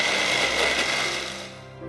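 A food processor whirring through soaked pitted dates, a loud dense grinding buzz that holds steady then slightly fades over about two seconds.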